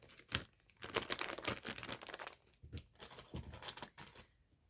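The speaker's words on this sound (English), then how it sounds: "Sorry about all the crinkling" A wet wipe packet crinkles and rustles in a series of quick, fairly quiet plastic crackles and taps, close by and irregular, with short gaps between handling bursts.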